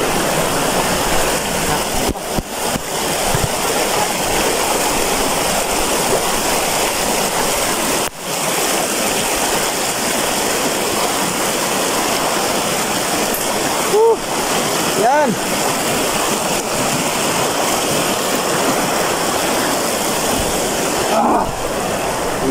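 Broad, steady rush of river water flowing over gravel, loud and continuous with occasional splashes and faint voices in the background.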